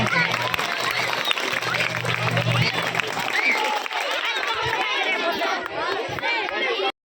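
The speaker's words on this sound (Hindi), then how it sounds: "एक बार जोरदार तालियां" Crowd of children and guests at a Republic Day celebration at a police station claps heartily, with chatter mixed in and a low hum early, until the sound cuts off abruptly.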